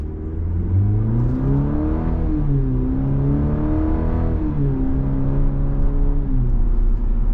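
A 2025 Cadillac CT4-V with its 2.7-liter turbocharged four-cylinder accelerates hard, the engine note climbing through the revs, dropping at each upshift and rising again, loud and close with no talking.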